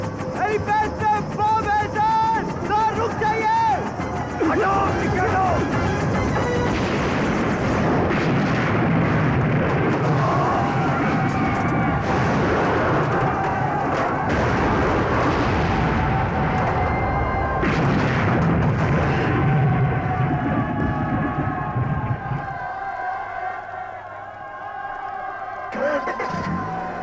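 A bomb goes off on a helipad in an action film, a roaring blast-and-rumble sequence with crashing debris and engine noise that fades to quiet near the end, while music and shouting voices run over it.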